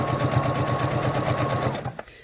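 A sewing machine runs steadily, stitching fabric binding on a face mask, a rapid even needle chatter close by that stops abruptly near the end.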